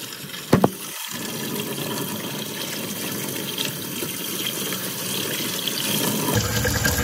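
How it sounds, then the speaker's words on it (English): Warm water runs steadily from a tap while shampoo is rinsed out of natural hair, a continuous close wash of flow with a brief knock near the start. "I'm going to go ahead and rinse it out with warm water"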